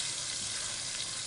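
Beef for an Italian pot roast browns in a hot pan, giving a steady, dense sizzle and crackle of frying that fills the clip without any talk.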